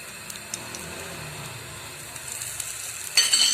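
Desi ghee poured onto a hot charcoal piece gives a faint, steady hiss with a few small crackles, swelling into a brief louder sizzle at the end.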